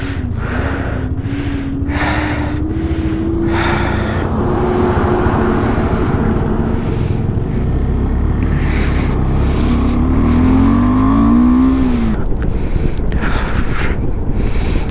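A car cruises along the Leh-Manali highway in Ladakh, giving a loud, steady engine and road drone for the whole stretch, with a whining tone that rises and shifts, and occasional breathy noises from inside the cabin.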